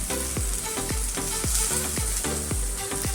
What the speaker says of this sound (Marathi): आता त्याच्यामध्ये आपण बारीक चिरलेला कांदा टाकूया.